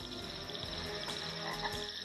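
Frogs croak in a dense, continuous outdoor chorus, recorded in the field, with overlapping calls layered over a constant background din.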